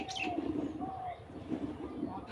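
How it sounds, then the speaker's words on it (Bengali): Birds calling in a rural Bangladesh setting, soft cooing and light chirps in the background under a continuous low murmur, moderately near and steady. "সাইডে কত পাখিরা ডাকছে,"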